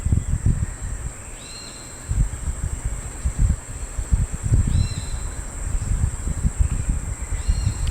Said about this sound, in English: enjoy the sounds of the birds here in Costa Rica.